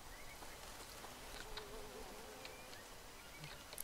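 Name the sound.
buzzing bee in video game Green Hell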